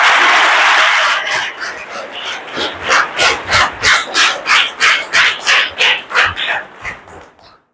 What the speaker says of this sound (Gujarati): જોરદાર તાળીઓથી આપણે એમનું સ્વાગત કરી દઈએ